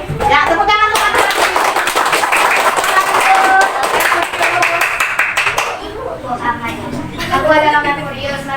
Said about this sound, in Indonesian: tepuk tangan untuk matahari